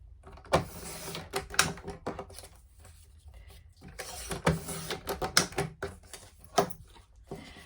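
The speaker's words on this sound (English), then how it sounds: "now I'll trim up my" A paper trimmer cuts photo mats for a scrapbook page, giving close mechanical clicks, slides and sharp snaps in irregular bursts with quiet gaps between.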